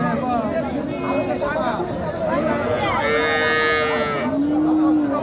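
Friesian cattle moo at a crowded livestock market in Sirajganj with several long, drawn-out lows, some near and some farther off, over a steady background of people talking.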